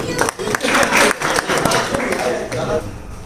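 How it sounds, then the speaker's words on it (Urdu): Audience applause at a stage gathering, a book launch and poetry event, rising in dense rolling waves under a voice speaking over the crowd. "محترم واصف فاروقی صاحب تالیاں بجائیے ورنہ اٹھیں گے"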